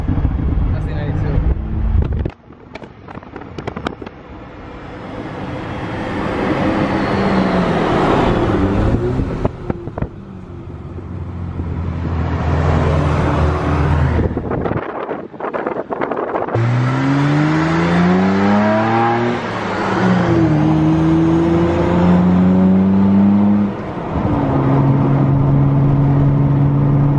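A BMW E92 engine and exhaust roar loudly up close, with bursts of hard acceleration, brief drops, and rising revs climbing through gears in the latter half.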